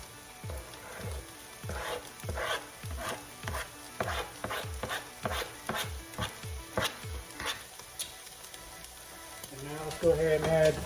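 Thyme, garlic, red pepper flakes, cumin, turmeric and curry sautéing for a spicy lentil soup: a steady sizzle under repeated rhythmic stirring scrapes in the pan, close and moderately loud, with a brief louder clatter near the end.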